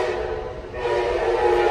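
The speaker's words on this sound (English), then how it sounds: "And my train is coming just on time." A train rumbles past close by with a steady, loud roar and a sustained tonal whistle-like drone throughout, no talk.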